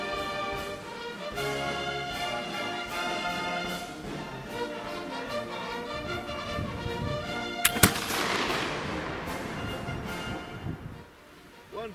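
A single sharp shot from an 1800 pattern Baker rifle loaded with a paper cartridge rings out at a 100-yard range, with a loud crack and a short decaying tail over steady background music.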